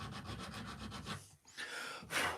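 Rough rubbing strokes over a wood carving being smoothed, a steady scraping rhythm close up that pauses briefly, then resumes with a louder, harsher pass at the end.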